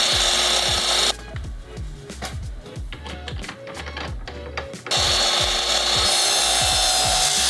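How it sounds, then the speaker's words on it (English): Loud power saw cutting common board lumber for a bass trap frame, with two long harsh bursts of cutting and a quieter stretch of rubbing and clattering wood in between. "now I have all the lumber cut down to the dimensions that I need"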